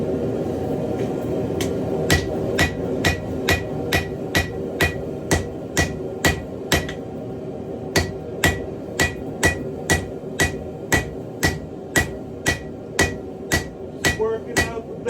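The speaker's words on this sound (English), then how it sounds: "that half a pound goes a long way when you're swinging a hammer" A hand sledge hammer forging a meat cleaver blade strikes in steady, evenly spaced blows, about two per second, with one brief pause midway and a ringing metallic clang on each hit, close and loud.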